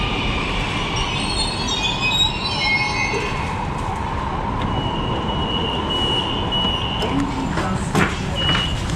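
Hyderabad metro train running on its track, loud continuous rolling rumble with high squealing wheel tones drifting across the first seconds and recurring later, heard up close from inside with no talk.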